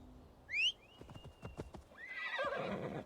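A horse in Assassin's Creed Valhalla gives a sharp, high whinny followed by a string of hoof clip-clops and a snorting breath, all close and fairly quiet.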